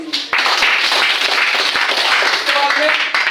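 Loud, sustained applause and clapping from an audience at a product talk, a dense steady wash of claps throughout with a faint voice underneath.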